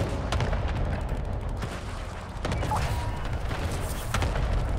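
Gunfire in a video game, with rapid bursts of shots and booming thuds layered over a dense, continuous rumble throughout.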